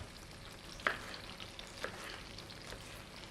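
Sweet peppers and onion frying in a skillet give a soft, fairly quiet sizzle with a few sharp clicks of a utensil against the pan, no talking.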